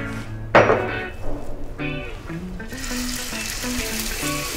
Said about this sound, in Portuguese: fritar o hambúrguer